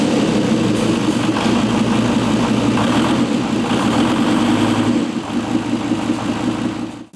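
A V10 TDI twin-turbo engine in a Nissan Patrol running in limp mode, a loud, steady, close idle with a dense rumble that dips slightly after about five seconds and then cuts off abruptly.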